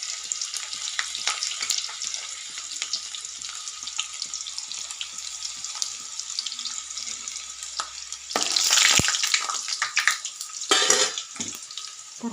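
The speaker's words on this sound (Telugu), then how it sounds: "తర్వాత ఎల్లిపాయలు వేస్తున్నాను." Garlic cloves frying in oil as tempering for homemade mango pickle: a continuous crackling sizzle with scattered pops, swelling into louder bursts of spitting and stirring near the end.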